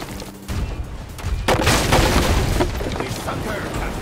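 Cannon broadside fire in a 2002 pirate MMO browser game: a dense run of booming, overlapping blasts that swells after a brief lull and keeps rumbling loudly to the end.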